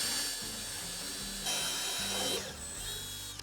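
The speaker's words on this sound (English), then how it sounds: "I'm going to pre-drill the front." Power drill pre-drilling the front of a wooden dresser drawer, a close whirring motor that revs in short pulses with pitch shifts as the bit bites, then winds down.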